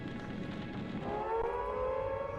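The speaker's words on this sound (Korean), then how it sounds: "사이렌이 막 울리고 소방차가 달려갔죠." An air raid siren wails faintly during the London Blitz, its tone rising and swelling over a low background rumble.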